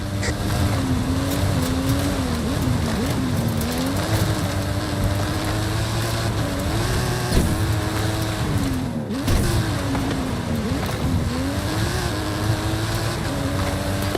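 Custom stunt car with a custom engine and suspension in Forza Horizon 5, its engine roaring steadily as it climbs a hill, loud and close with wavering revs and a brief dip midway.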